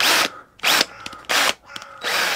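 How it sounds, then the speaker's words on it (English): A power drill boring a roughly 3.5 mm hole through a small plastic strimmer part, three loud, close bursts of high whirring spaced by short pauses, with faint clicks and handling noise in between. "I'm going to drill out that little tiny bit on the side that holds on the clip"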